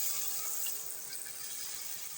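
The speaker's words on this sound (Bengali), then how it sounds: "এখন দিয়ে দেব তার মধ্যে পরিমাণ মতো জল" Water pours into a pan of fried peas, a steady soft splashing wash that runs continuously and fairly close, with no talking.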